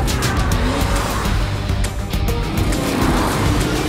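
A cartoon monster truck from Hot Wheels Monster Trucks Island roars along with loud tire squeal and skidding, a dense, continuous burst of engine and rubber noise.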